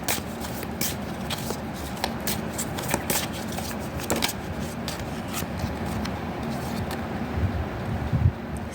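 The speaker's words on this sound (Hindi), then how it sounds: "उसके लिए हम ऑरेकल कार्ड्स यूज़ करेंगे।" Oracle cards being shuffled for a tarot reading, a steady papery rubbing and riffling with soft repeated clicks and flicks running throughout, close and moderately quiet.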